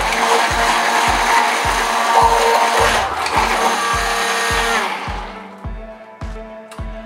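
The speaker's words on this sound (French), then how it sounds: "Et maintenant, nous allons venir mélanger le tout." An electric mixer whirs loudly through organic soap ingredients for about five seconds, then cuts out, leaving a run of regular dull knocks.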